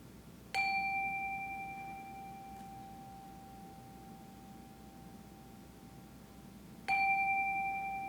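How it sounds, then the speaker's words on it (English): A chime rings twice at a church service, each strike a bright, clear tone that lingers and slowly fades over several seconds, the second strike near the end, in a quiet room. "let's settle our minds and calm our hearts with the ringing of our chime."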